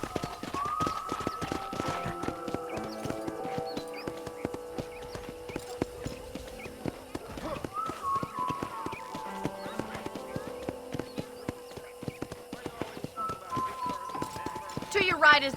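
Horse hooves clip-clopping at a gallop in the Red Dead Redemption video game, a steady rhythmic beat running throughout beneath game music and spoken dialogue.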